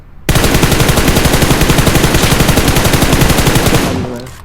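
Sustained automatic rifle fire in the mobile battle royale game PUBG Mobile, a continuous rapid burst of loud close shots lasting about four seconds before cutting off.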